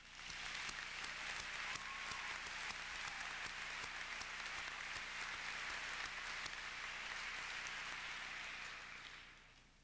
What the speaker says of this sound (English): could you please give those people there a very warm round of applause?